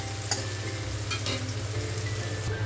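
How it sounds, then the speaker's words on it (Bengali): Onions frying in a pan until light brown for a tomato vegetable curry, a steady close sizzle with occasional stirring scrapes and a low hum underneath, no talking. "অতটাই পর্যন্ত ভেজে নিতে হবে পেঁয়াজটা ভালো করে"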